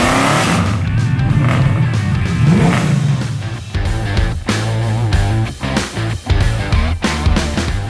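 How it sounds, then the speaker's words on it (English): Lumpy-cam cars cruise and rev around the Summernats Tuff Street compound, loud engines burbling and roaring continuously with sharp throttle blips and brief tyre noise, no talk. "with the sounds of lumpy cam rides cruising around the compound with the occasional skid or two"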